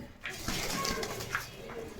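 A pair of pigeons at a pigeon seller's shop in Bogura, soft repeated cooing close by against a faint background murmur, with no clear speech over it.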